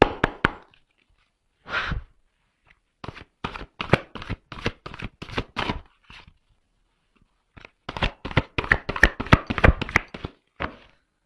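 Very large playing cards, nearly hand-sized, being shuffled in bursts of quick riffling snaps and taps, close and crisp, with short pauses between runs and a final dense flurry.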